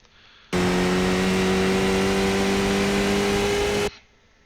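A Skip Barber race car at Mount Panorama in the iRacing simulator holds a loud, steady engine tone for a few seconds, then stops abruptly, with quieter engine noise before and after.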